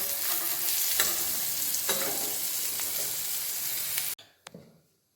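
Potato and eggplant pieces frying in hot oil in a pan give a steady, close sizzle with a few stirring knocks. The sizzle cuts off abruptly near the end, followed by a couple of faint clicks.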